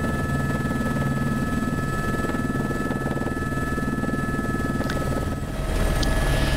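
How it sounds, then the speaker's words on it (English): A helicopter's steady rotor and engine drone fills the whole stretch near an Alaskan glacier, loud and continuous, swelling slightly near the end. "The two lead helicopters have landed"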